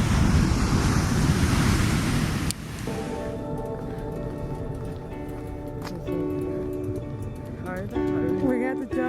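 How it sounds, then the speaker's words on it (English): Ocean waves wash onto a beach with steady broadband surf and wind buffeting the microphone, loud throughout, while people talk over it in the second half. "this morning we decided to come to the beach, and it looks gorgeous"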